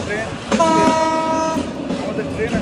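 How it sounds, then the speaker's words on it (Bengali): The Korotoa Express passenger train pulls out of Patgram station, sounding a loud, close horn over the rumbling rail noise and the background hum of the carriage. "আমাদের ট্রেন ছেড়ে দিল সর্বশেষ স্টপেজ পাটগ্রাম।"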